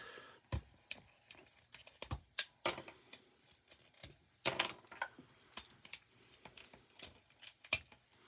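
Sharp plastic clicks and snaps from a Transformers Generations Selects Straxus toy being folded and clicked together, sounding as a dozen or so irregular close taps over quiet background, with no talk.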